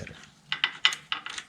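A part being screwed onto a 2006 Triumph Daytona 675 motorcycle, heard as a short run of close, sharp ratcheting clicks in quick uneven bursts.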